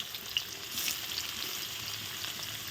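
Paneer pieces frying in a pan make a quiet, even sizzle with faint bubbling that holds steady throughout.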